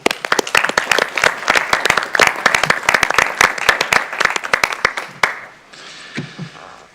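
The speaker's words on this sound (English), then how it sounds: "We'll give everybody a round of applause." An audience claps for honor choir and all-state choir singers at a school board meeting, dense steady applause for about five seconds, then trailing off into quiet room tone.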